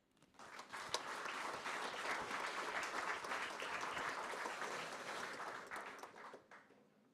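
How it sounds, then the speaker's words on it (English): Warm, sustained applause from a seated audience at a superyacht awards ceremony for the jury members, swelling quickly into a dense, even wash of many hands and holding steady before tapering off at the end. "A warm applause to the jury members."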